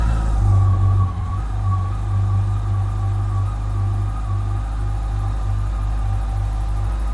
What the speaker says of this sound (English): Got a real good sounding engine.